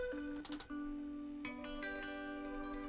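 Clean electric guitar notes with a bright, twangy edge, plucked single notes and a chord ringing out, played alone at moderate volume.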